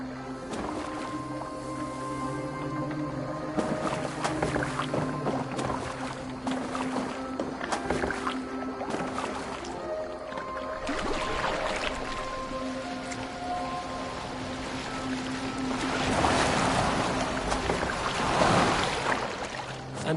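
A boat glides across water in Assassin's Creed Valhalla, with steady splashing and wash rising and falling over a low ambient music bed, no voices.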